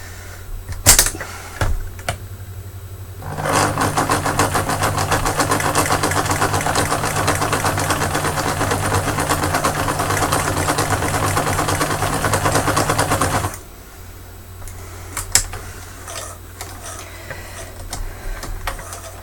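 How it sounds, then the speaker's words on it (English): A sewing machine stitches through an old shirt being reworked into a child's costume. One loud, fast, rhythmic run of needle clatter lasts about ten seconds, with quieter handling noises before and after. "This is why I need a long arm machine."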